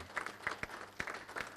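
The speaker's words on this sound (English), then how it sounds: "She needs a round of applause" Audience applause at a library launch event: a short burst of scattered clapping from a modest crowd, moderately quiet and uneven in rhythm.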